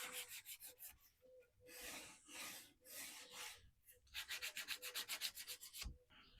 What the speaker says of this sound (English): I'm just going to take a piece of hand paper, break my edges one last time